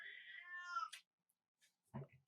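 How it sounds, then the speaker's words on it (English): A cat gives one drawn-out, wavering meow lasting nearly a second, close and clear, followed by silence and a brief soft rustle. "Every time I watch these videos back, she meowed."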